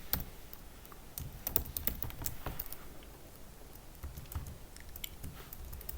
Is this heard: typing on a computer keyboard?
yes